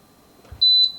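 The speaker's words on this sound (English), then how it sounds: "Sorry for the beeping." A Gourmia French Door XL oven beeps while being set to bake at 350 degrees Fahrenheit. Two short, bright, close electronic beeps sound in quick succession in an otherwise quiet room.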